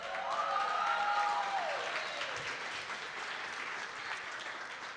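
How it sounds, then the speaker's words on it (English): An audience applauds at a live studio sports show, a dense wash of clapping that starts loud and tapers off slightly over several seconds, with a faint tone sweeping through it near the start. "Now let's give these guys a round of applause"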